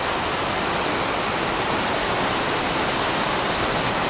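Heavy rain pours while floodwater overflows, a dense, continuous roaring wash of water, loud and close, steady throughout with no talking.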